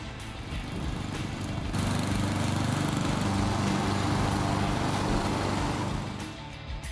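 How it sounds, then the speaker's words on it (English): A Hyundai petrol lawn mower engine runs loudly and steadily, then its note drops and softens as the throttle is pulled back and it settles toward idle near the end. "lower the throttle by pulling the throttle lever fully back, let the engine idle down"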